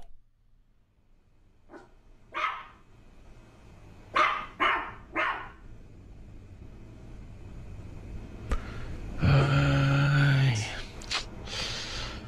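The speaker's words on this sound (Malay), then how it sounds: "Sepanjang malam tak henti-henti anjing tu menyalak" A few separate dog barks at night spaced out over several seconds, fairly distant, followed by a louder burst of mixed noise near the end.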